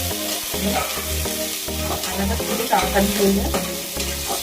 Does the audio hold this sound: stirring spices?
yes